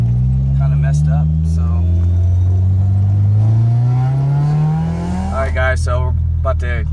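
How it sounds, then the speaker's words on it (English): Honda Civic EK hatchback with a K24A2 engine swap revving hard against a two-step launch limiter, the engine note climbing steadily then holding near and loud, with a voice talking over it. "Right now I'm gonna check to see if the 2-step is working as well"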